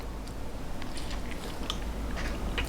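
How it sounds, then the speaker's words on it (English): Chewing on a soft-bread turkey bacon ranch sandwich with bacon, tomato and lettuce, heard as faint, close, irregular bites and crunches over quiet room noise, with no talking. "The bread is nice and soft, but still has kind of like an interesting chew to it"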